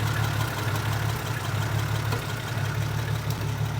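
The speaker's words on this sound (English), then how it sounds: "Engine's super tired in this thing, so it's got a miss, and it's got a little bit of rod knock and burns oil" Worn-out old car engine idling roughly with a miss and light rod knock, a steady low rumble close by with no talking.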